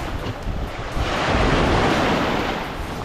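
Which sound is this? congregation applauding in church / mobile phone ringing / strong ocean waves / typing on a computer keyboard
strong ocean waves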